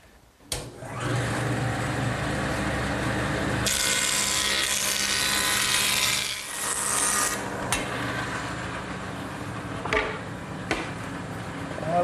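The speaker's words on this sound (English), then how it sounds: "I'm going to straighten the edges on my joiner." A jointer machining the edges of wooden boards runs as a loud, steady motor whine with dense cutting noise, shifting in intensity as each board passes over the cutterhead, with brief pauses and thumps between passes.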